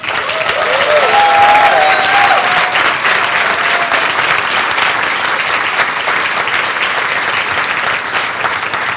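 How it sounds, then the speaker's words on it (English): Sustained audience applause fills a leadership awards ceremony, dense steady clapping from a large crowd held at full strength throughout, with a brief whistle-like tone early and no talk over it. "please give the Honorable Pat Glass another round of applause"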